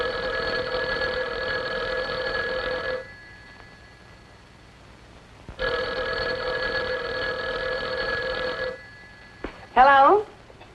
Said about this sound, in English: our phone is working perfectly. Can't you hear it ring?